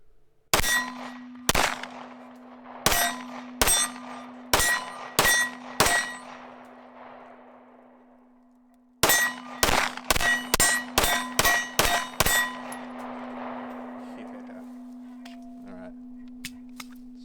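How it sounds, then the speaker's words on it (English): An IWI Masada optics-ready pistol clacks sharply as its slide slams forward and is worked repeatedly, two bursts of crisp metallic clanks with short ringing decay, close and loud, with a faint hum underneath. "when you put the mag in, it automatically sends the slide forward"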